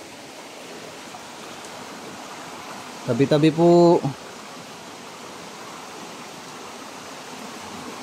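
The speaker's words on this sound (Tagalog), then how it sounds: "umaagos yung tubig hanggang dyan sa taas" Water rushes steadily in a forest stream, a broad even hiss running throughout, with a short spoken phrase breaking in briefly around the middle.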